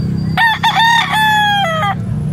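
A lambuhon rooster crows once, a loud, close cock-a-doodle-doo with a short opening note followed by a long held call over a steady low background hum.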